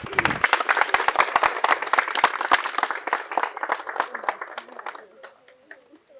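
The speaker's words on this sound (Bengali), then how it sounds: "একটা জোরে হাততালি হয়ে যাক।" Audience applause at a daily afternoon quiz at Santiniketan Medical College and Hospital, with dense clapping from a crowd that stays strong for a few seconds and then thins out to scattered claps before stopping.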